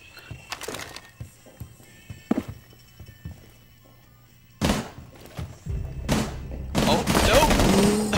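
Gunfire in the video game Rainbow Six Siege sounds as sharp shots and thuds at irregular intervals, some loud and close and others lighter. Players talk over a noisy stretch toward the end.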